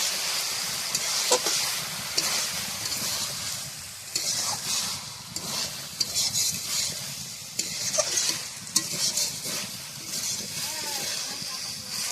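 Vegetables frying with chopped coriander in a pan, a continuous sizzle broken by irregular spatula scrapes and clinks, close, with some talk over parts of it.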